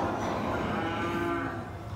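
A ranching cow, of Brahman-cross type, gives a long, low moo in Louisiana, with other cattle lowing in the background against steady outdoor noise.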